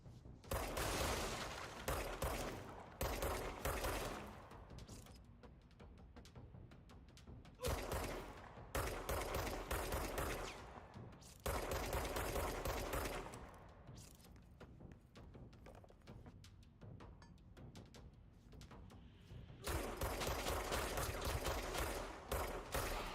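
Bursts of rapid gunfire from shooting enemies in the game Control come in several long volleys, separated by quieter stretches of mechanical rattling and thuds.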